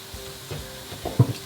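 Red and green vegetables softening in a pan for a turkey meatball sauce give a soft, low sizzle, with a brief scrape or clunk of stirring about two-thirds of the way through.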